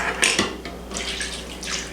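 A milk mixture pours into a pot for a chocolate eclair dessert, giving a steady liquid splash and trickle for about two seconds with a few sharper spatters early on, close and alone.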